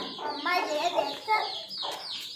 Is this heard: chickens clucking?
yes